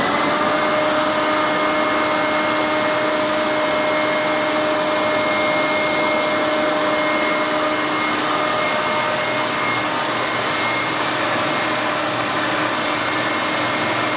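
An Emerson 6.5 horsepower wet/dry workshop vacuum runs with a steady, loud whine and a constant airflow roar, unbroken for about 14 seconds with no talk.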